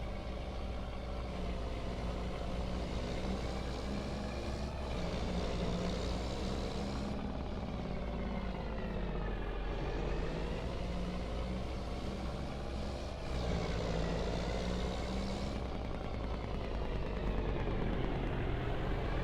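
A truck engine in the Farming Simulator game rumbles continuously with a steady low drone and slight shifts in pitch as it drives, loud and unbroken with no talk.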